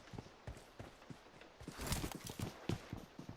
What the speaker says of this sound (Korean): 발소리, 발소리.